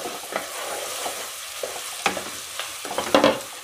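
Spices and garlic fry with chopped kakoda vegetable in a pan, a soft continuous sizzle broken by a few sharper crackles and stirring scrapes, close and moderately quiet, with no talking.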